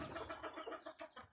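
Chickens cluck in a closed-system coop, several short, close clucks and squawks following one another in a quick, uneven rhythm over faint background noise.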